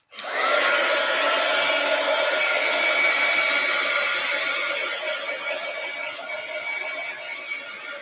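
A hair dryer dries a craft project, starting abruptly and then running as a steady, loud, airy whoosh with a high whine, close by and continuous, with no talking.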